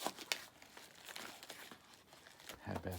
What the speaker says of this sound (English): unboxing, unwrapping